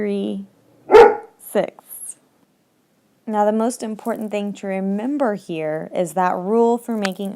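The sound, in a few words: dog barking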